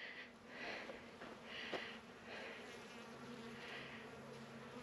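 Honeybees buzz around a stump hive, a soft, continuous drone that swells and fades in gentle waves, heard faintly outdoors with no voices.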